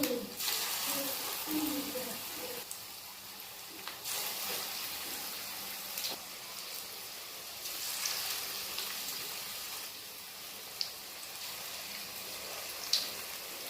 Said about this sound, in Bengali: এবার পকোড়াগুলো ভেজে নেব।